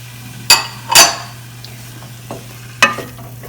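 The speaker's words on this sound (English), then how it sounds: "We're going to stir everything together" Black and kidney beans are stirred into a sweet potato chili in a pot: a few sharp, close utensil clinks and scrapes at irregular intervals over a quiet low hum.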